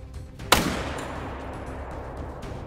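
A single sharp rifle shot fired at a caribou in a hunting video game, loud and close, followed by a rolling echo that fades into steady ambient wind noise.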